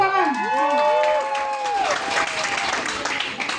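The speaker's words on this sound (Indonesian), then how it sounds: "Tepuk tangan." A crowd at a youth Bible quiz competition breaks into brief applause and clapping, layered over musical tones and a voice, then fading out.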